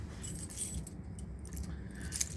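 Keys jangle and clink as they are pulled out of a pocket: a short burst of close metallic rattling over low background rumble, with no voices.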